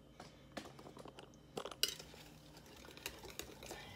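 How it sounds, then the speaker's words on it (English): Spoon stirring peanut butter pie filling in a bowl at home, soft scraping and clinks against the dish with a few sharper knocks, close and fairly quiet, no talking. "gonna stir it some more"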